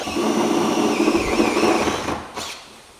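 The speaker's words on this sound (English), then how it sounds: "when we drill in here" A power drill whirs steadily at close range for about two seconds while drilling into a car door, then winds down and stops, leaving quiet.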